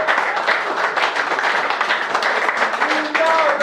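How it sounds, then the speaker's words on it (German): Audience clapping at a Cologne-style carnival session held in a venue, a steady broadband patter of many hands lasting throughout, with a few faint tonal sounds near the end. "Wenn er euch gefallen hat, klatscht in der Hängche"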